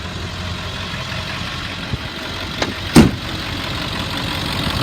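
A 2000 Ford F-450 XL crew cab utility truck with a 7.3L engine and 96,000 miles idles steadily up close, with a brief rev or clunk near the middle.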